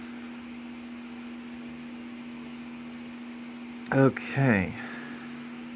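A Bean resin 3D printer runs with its cooling fan as a steady, moderate electrical hum holding a constant tone, and a person speaks briefly near the end.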